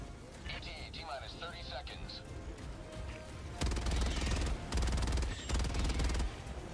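Gunfire from the bug-fighting shooter Helldivers 2 breaks out in three loud, rapid automatic bursts during the second half. Quieter game sounds and electronic chirps come before them.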